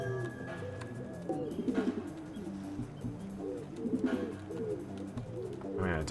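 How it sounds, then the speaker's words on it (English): A small flock of pigeons in a video game coos in soft, rolling bursts, repeating several times at moderate volume with faint speech-like sounds around them. "Hello, family of pigeons."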